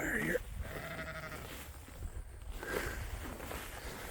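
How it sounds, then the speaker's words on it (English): Sheep bleat faintly from a paddock of goatweed and native grass, a couple of short calls over outdoor background noise with someone talking nearby. "Sheep."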